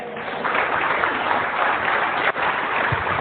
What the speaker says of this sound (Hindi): जोरदार ताली से स्वागत कर रहे हैं हैरिस गुरविंदर